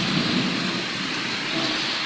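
Heavy rain pours down in a dense, steady hiss with a low rumble underneath, continuous and close throughout.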